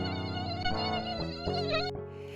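Insects buzzing close by in a dense, whining drone with wavering pitch, loud and continuous, cutting off abruptly near the end.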